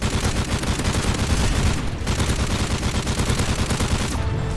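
Tap-fired gunshots from a low-recoil weapon in Modern Warfare 3 ring out in a fast, even string of loud, close reports that continues almost without pause for several seconds, with no voices.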